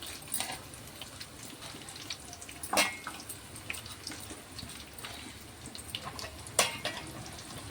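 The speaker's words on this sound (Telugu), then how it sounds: "పోపు దినుసులు అయితే ఆయిల్లో ఫ్రై అయిపోయాయి" Onion pieces frying in hot oil with tempering spices like cumin for wheat rava upma, a soft, fairly quiet sizzle broken by scattered crackles and pops.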